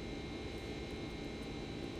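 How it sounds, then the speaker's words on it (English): Simulated jet engines of a Boeing 767-300 in X-Plane 11 hum steadily during the climb out of Tahiti. The cabin drone is low and faint, a constant broadband roar with no voices. "here we are climbing out of Tahiti with the 767-300 flight factor"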